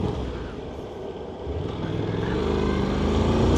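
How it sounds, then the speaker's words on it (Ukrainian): A four-stroke motorcycle rides along with its engine in a steady, close, rumbling drone that builds gradually louder, with no voices over it. "Коли ти пускаєш сцеплення, а мотоцикл їде."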